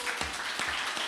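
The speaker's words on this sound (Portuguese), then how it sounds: "Vamos dar uma gostosa salva de palmas para Jesus Cristo." Church congregation applauding during a worship service, a brief burst of fairly loud, even crowd clapping with a few distinct claps standing out.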